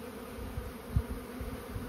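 Honeybees working on a hive, sealing gaps, give a steady close buzzing hum that carries on without a break.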